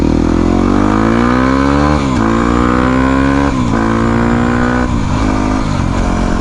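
A Yamaha WR250R dual-sport motorcycle fitted with an aftermarket exhaust revs loudly and close by, its engine note climbing in pitch through several gear pulls with brief dips between shifts.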